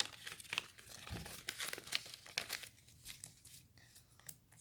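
Paper airplane being folded by hand: close, irregular crinkling and rustling of a sheet, with sharper creasing bursts scattered throughout and no talk.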